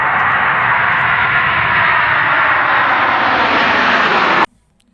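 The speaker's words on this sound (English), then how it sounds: "Airplane." An airplane engine roars steadily and loudly for several seconds, a dense broadband drone that cuts off abruptly near the end.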